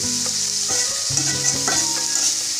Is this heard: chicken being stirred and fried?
yes